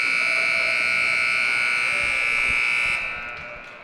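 Hockey rink end-of-period horn blaring loud and sustained for about three seconds, then cutting off, with faint arena noise under it.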